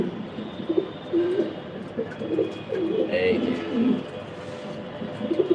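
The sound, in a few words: pigeon cooing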